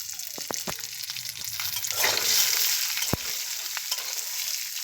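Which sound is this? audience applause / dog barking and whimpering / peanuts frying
peanuts frying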